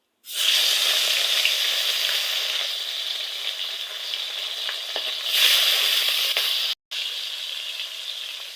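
Rohu fish, rubbed with salt and turmeric, frying in hot oil in a pan: a loud, continuous sizzle and hiss, close up, with a brief break near the end before it resumes.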